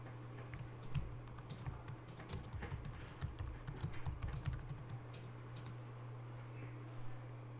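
Quiet typing on a computer keyboard, a steady patter of soft key clicks over a low electrical hum, with no speech.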